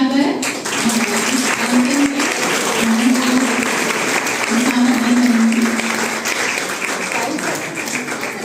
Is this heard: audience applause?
yes